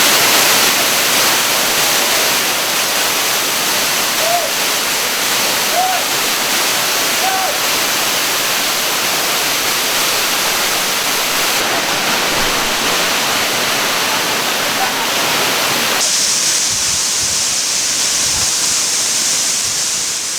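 El Limon waterfall between Las Terrenas and Samana in the Dominican Republic, a loud continuous roar of falling water heard up close, steady throughout with no break.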